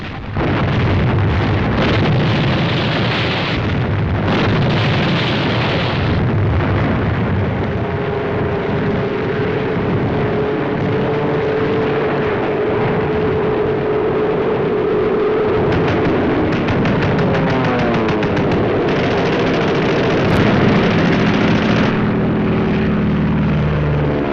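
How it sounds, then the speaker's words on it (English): Heavy guns of shore batteries and a French battleship firing at Casablanca during the WWII North Africa landings, a dense, continuous roar of booming blasts and rumbling at loud level, with droning aircraft engines mixed throughout. "Shore batteries and the heavy guns of the French battleship Jean Bart"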